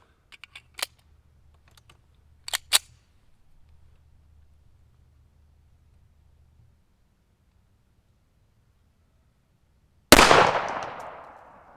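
A 1911 pistol with a 5-inch barrel is fired once over a chronograph: a few light handling clicks, then a single sharp, loud shot near the end with a brief decaying tail.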